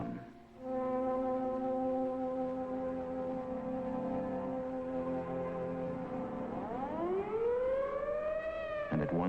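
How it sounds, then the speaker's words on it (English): A civil defense siren wails steadily and loudly for several seconds as an outdoor public warning during a 1950s evacuation, then its pitch sweeps upward in a rising glide near the end. "as directed by the mayor, the siren sounds once more."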